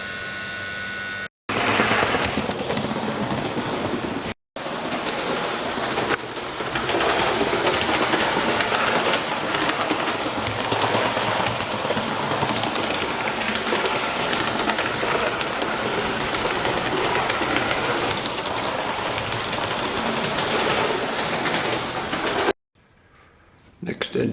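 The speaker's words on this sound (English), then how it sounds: "This is an F1 tank engine. We'll see how well this one runs." An F1 model steam tank engine, alcohol-fired live steam, runs with a steady broadband hiss and chuffing rattle, loud and continuous, with brief gaps and voices talking nearby.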